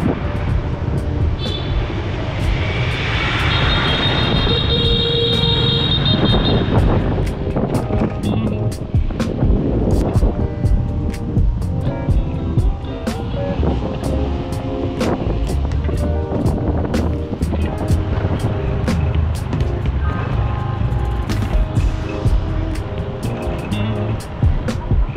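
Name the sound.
motorbike ride to Cat Cat village, Sapa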